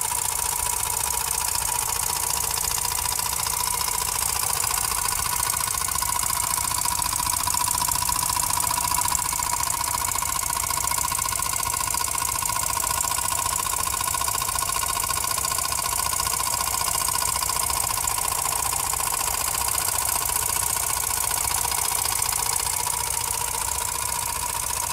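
A Jensen #85 model steam engine turns four small generators, giving a steady, continuous mechanical whir and hum with a high, even drone that holds at the same level throughout.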